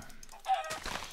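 A chicken in the game Minecraft gives a short, close cluck, a single brief burst alone against a quiet background.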